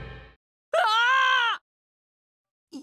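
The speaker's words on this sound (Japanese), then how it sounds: "人間の悲鳴だと思う。" A single human scream in Digimon Survive rings out loud and close, lasting under a second between stretches of silence. Brief, fainter game sounds sit at either edge.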